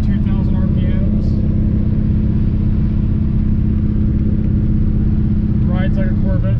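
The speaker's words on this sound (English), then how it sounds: "You'll get a nice little burble from the exhaust on deceleration." A 1976 Corvette on a test drive gives a continuous low exhaust burble and engine drone at steady cruise, loud and close, with faint higher chirps rising briefly near the start and end.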